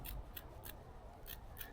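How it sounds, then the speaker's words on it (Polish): Small, cheap China Express rescue scissors snip through material in five crisp, close cuts at uneven intervals, each a short bright crunch, with no talk. "Teraz małe nożyczki China Express."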